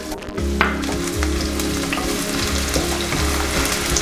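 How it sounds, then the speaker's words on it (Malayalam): Finely chopped ginger and garlic stir-fried in oil until golden brown, a loud, dense sizzle with a steady low rumble and occasional scraping from stirring, no voices. "ഇഞ്ചി പൊടിയായി അരിഞ്ഞത് ചേർത്തിട്ട് നമുക്കൊന്ന് ഒരു ഗോൾഡൻ ബ്രൗൺ കളർ വരുന്ന വരെ നമുക്കൊന്ന് ഇളക്കാം."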